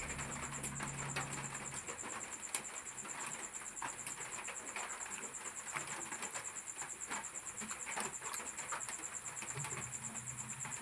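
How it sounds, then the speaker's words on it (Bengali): Steady hiss of rain falling, continuous and fairly faint, with scattered soft patters and no voices. "এত আওয়াজ হচ্ছে বৃষ্টির"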